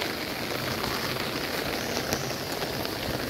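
Rain falls outdoors in a steady, dense downpour, with a continuous hiss of drops hitting the ground and surfaces close by, even in level and without talk.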